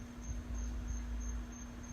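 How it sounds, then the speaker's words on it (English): Crickets chirp in a steady, regular pulse of short high trills, moderately loud over a low constant hum. "Do you hear those crickets?"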